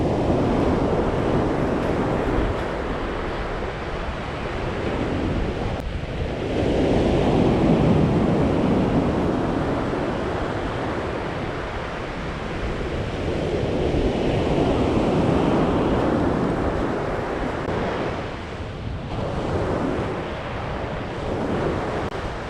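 Strong side wind blows at a beach, buffeting the microphone in a constant loud roar with surf washing underneath, swelling and easing over about twenty seconds with no voices.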